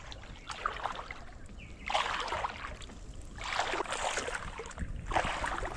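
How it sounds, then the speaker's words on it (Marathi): Fast-moving floodwater surges along a rural path where the water has risen deep, a steady broadband rush with louder gushing swells at intervals, close by and with no voices. "पाणी बघ कसला चालला"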